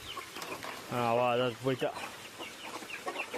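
A chicken gives a drawn-out clucking call, loud and close, between bits of someone talking nearby.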